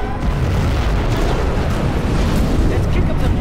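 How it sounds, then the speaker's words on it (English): Scud Storm missiles strike in Command & Conquer Generals Zero Hour, a dense, continuous barrage of loud booming explosions with heavy low rumble filling the whole stretch without pause. "Our Scud Storm has been launched."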